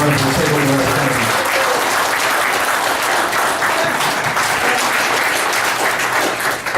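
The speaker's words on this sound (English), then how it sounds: "give a big round of applause to this guy" A fundraiser audience breaks into loud, sustained applause, dense clapping filling the room evenly throughout, with a faint voice underneath at the start.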